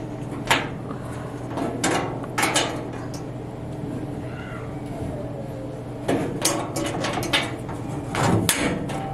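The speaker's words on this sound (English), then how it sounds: "I used a little tool that it came with, and I used it to help me push it down." Pegs being pushed into an IKEA KOLBJÖRN cabinet with the small supplied tool: scattered sharp knocks and clicks, some in quick pairs, over a steady background noise, close and moderately loud, with no talking.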